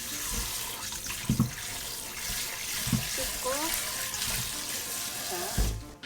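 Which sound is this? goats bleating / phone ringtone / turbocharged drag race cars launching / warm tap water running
warm tap water running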